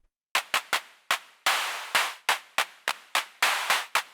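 Clap sounds from a FLAME FIRE Eurorack drum synth, a run of about a dozen sharp synthetic claps in an uneven pattern, some with short tails and some with longer reverb-like decays, loud and close with nothing else behind them.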